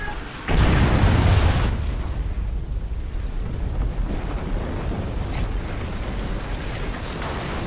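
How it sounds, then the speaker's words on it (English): A friendly KEM strike in Call of Duty Ghosts, Domination mode on the Strikezone map: one loud, heavy explosive blast bursts in, then decays into a long rumbling roar that carries on to the end, with no talk. "Friendly KEM strike incoming."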